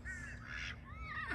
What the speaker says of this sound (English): There's our baby ducks